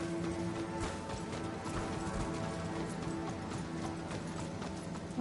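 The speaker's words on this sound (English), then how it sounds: "I don't think that horse is gonna fight me." Horse hooves clip-clop steadily in Elden Ring, a continuous rhythmic patter set against dense game music and ambient sound, with no voice over it.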